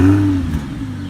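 Audi R8 V10 engine revving close and loud, a strong high-pitched note that sags after a brief peak and then settles, alone without talk.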